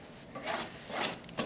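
A knife scrapes hot-mud joint compound across a drywall patch in a few soft, quick rasping strokes, faint and close, with no talking.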